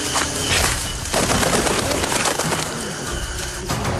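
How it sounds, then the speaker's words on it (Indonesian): A pigeon coos loudly and close over dense, steady background noise, its soft repeated calls running continuously. "Burung itu menghampiri kami lagi."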